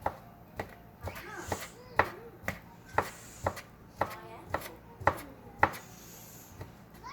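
A knife chops food into small pieces on a board in about thirteen evenly spaced, crisp strikes, while a voice speaks intermittently in the background.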